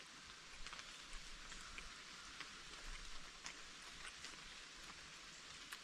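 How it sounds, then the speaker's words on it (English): Steady rain patters at a car-camping site, a continuous soft hiss of drops striking surfaces with occasional sharper ticks, fairly quiet and even throughout with no voices. "it's raining when it's not supposed to"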